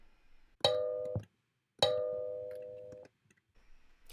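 Two plucked metallic kalimba tine notes ring out one after another, each decaying slowly in a quiet room; the instrument is detuned, so the pitch sounds slightly off.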